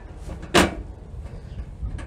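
The access cover of a Suburban camper water heater pushed shut, one short plastic clack at close range followed by faint handling noises.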